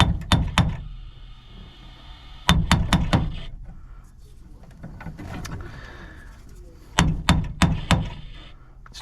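A metal object bangs on the roof of a 1964 Mercury Monterey convertible in quick clusters of sharp, loud knocks, with pauses between bursts and a brief murmur of talk.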